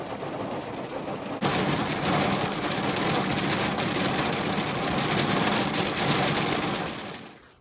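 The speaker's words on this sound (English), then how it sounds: "it's gonna rain all night tonight" Heavy rain from a thunderstorm drums hard and steady on a parked truck at a hunting campsite, a dense, loud roar that surges in abruptly after a quieter opening and keeps pounding until it fades at the end.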